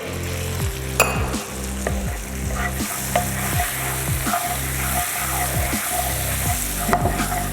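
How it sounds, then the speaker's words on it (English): Butter sizzles and fries steadily in a hot pan while making banana flambe, with regular stirring scrapes and a faint clink of utensils throughout. "Now I am adding some butter over here."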